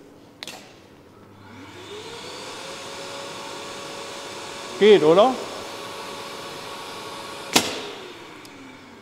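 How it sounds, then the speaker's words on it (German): An ordinary household vacuum cleaner serving as the dust extractor for a glass bead blasting cabinet in a workshop runs with a steady whining drone that starts up and holds, broken by a short burst of talk and a couple of sharp clicks. "Wir haben einfach einen ganz normalen Staubsauger dahin gemacht."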